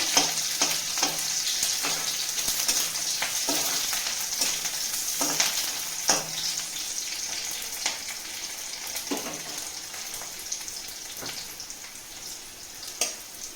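Onion and a cut green chilli fry in a pan for an Odia leafy greens dish, giving a continuous loud sizzle and hiss with occasional scrapes of a spatula, close up and without speech.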